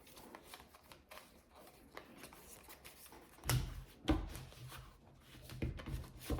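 Tarot cards are shuffled for a five-card draw, giving soft, faint riffling and sliding with a few sharper card taps near the end.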